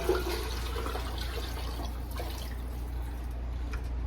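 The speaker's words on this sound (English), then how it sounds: "fill the pan up with about halfway filled with water" Water pours steadily into a pan for albondigas soup, a continuous rushing splash with some dripping, moderately close and with no talk over it.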